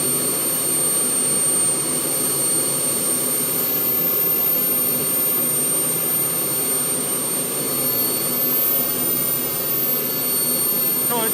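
A gas turbine engine runs under rising throttle with a loud, continuous jet whine and several high steady tones, holding strong and close for the whole stretch as the RPM climbs.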